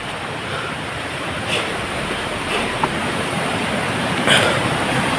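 A stream flows in a steady, broadband rush of water, loud and close, with no voices over it.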